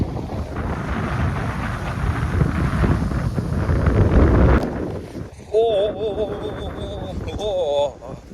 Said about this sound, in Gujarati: છે પવન તો જોરદાર રે